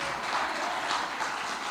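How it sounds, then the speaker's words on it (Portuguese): A church congregation claps together after a prayer, giving a steady wash of applause, moderately loud and sustained for the whole moment, with no clear voices over it. "Você pode dar uma salva de palmas a Jesus pela vida da Carla."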